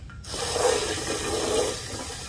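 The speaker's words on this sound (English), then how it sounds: "And right now it's just filling up with water." Water runs steadily into a tank being filled for core aeration of a lawn in mid-summer, a continuous rushing flow at moderate level with no speech.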